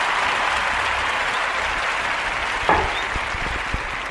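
Applause from a crowd, a steady wash of many hands clapping throughout, with a sharper clap or two standing out near the end.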